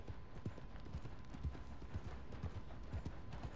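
Horse hooves clip-clop at a steady trotting rhythm on a road in Red Dead Redemption 2. The footfalls are faint and even under a low ambient bed, with no speech.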